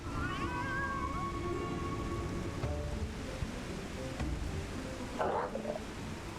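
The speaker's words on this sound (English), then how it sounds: "What is up with this cat?" A cat meows in Final Fantasy XIV during an Alexander raid, a short rising cry near the start and another yowl later, over constant rain-like game ambience with a soft voice in the background.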